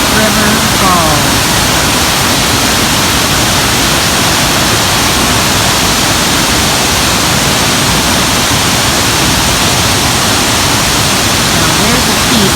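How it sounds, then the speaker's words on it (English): Emberton River Falls pours in a steady, loud, unbroken roar of falling water, a dense hiss that stays constant throughout. "Emberton River Falls."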